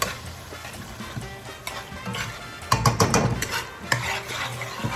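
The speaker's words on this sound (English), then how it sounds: "You're gonna add 2 tablespoons of garlic powder. And just give it a good mix." Squid and garlic powder being stirred together in a pot, a wet sloshing and scraping that grows louder and busier toward the middle, with clinks of the utensil against the pot, close and without speech.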